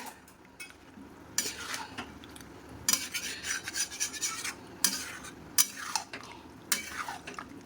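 A spatula scrapes and stirs chicken around a pan, giving soft repeated scraping and rubbing strokes at an irregular rhythm, close by but fairly quiet, over a faint low background hum.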